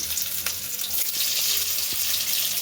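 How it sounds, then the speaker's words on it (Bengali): Boiled potatoes for biryani fry in a pan, giving a continuous close hiss of hot oil with a few soft knocks and scrapes. "এই বিরিয়ানির আলু এখন সব বয়েল করা আছে এগুলো ভাজা করে নিচ্ছি"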